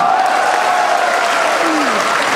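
An indoor audience applauds TNI and Polri members at a large gathering in a hotel, with dense, sustained clapping at steady volume and a voice briefly audible in the mix.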